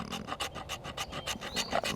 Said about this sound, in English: Let's just see if we can scrape some fat wood here